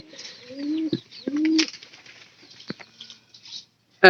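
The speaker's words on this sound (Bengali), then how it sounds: "আমাদের এই যে এই কবুতরটা দেখতেছেন" Domestic pigeons, a nesting pair with young gathering straw for the nest, beat their wings in close bursts of flapping, with low soft coos in between and a sharper flutter near the end.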